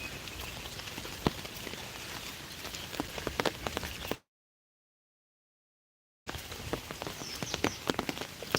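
Rain falls on surfaces, a steady close patter of drops with sharper ticks scattered through it, cut by a gap of total silence midway before resuming.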